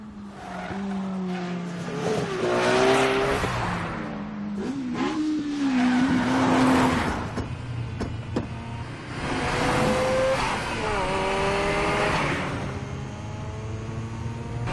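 Race cars battle bumper to bumper in an Initial D mountain race, engines revving and shifting loudly with rising and falling pitch, tires squealing through corners, close and continuous.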